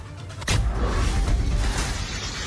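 Heavy typhoon rain with strong gusting wind during Typhoon Goring on Camiguin Island, Calayan, Cagayan: a dense, loud, steady roar of rain and wind that surges in abruptly after a quieter start and holds constant, with no talk.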